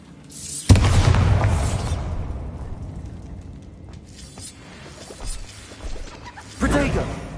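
A Bombarda spell explosion effect: a sudden loud boom with a rushing blast that decays slowly, followed by a second boom near the end, with a voice heard between.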